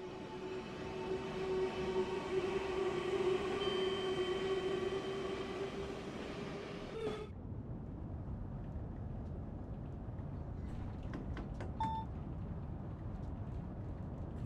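Southeastern high speed train in Train Sim World 3 running at speed, a steady rolling rumble with a high electric whine that cuts off midway, leaving the track roar and a few faint beeps.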